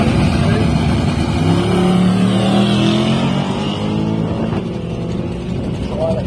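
Drag race cars, one a GMC pickup, rev and launch off the line at a track, with a steady roaring engine drone that slowly fades. An announcer talks over the engines throughout.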